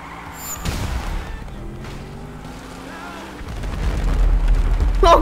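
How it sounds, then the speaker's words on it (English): Fireworks going off inside Grand Theft Auto V, heavy low booms and rumbling blasts that swell louder toward the end, with a voice briefly exclaiming over the din. "Oh, it's fireworks!"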